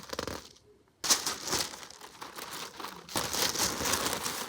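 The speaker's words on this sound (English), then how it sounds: "So we've got our tissue paper. I'm gonna fold this up." Tissue paper is folded and crinkled for packing an order, a close, papery rustle that stops briefly, then resumes in a longer, steady crackle.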